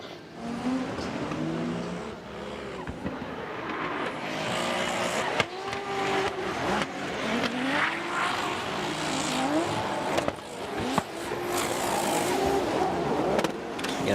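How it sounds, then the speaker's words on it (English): A poorly running drift car engine strains around Okayama International Circuit during a competition battle, loud and continuous, with rough revving that rises and falls in pitch through slides and transitions. "And Yamashita, this car does not sound good, but he is trying to get it around the track"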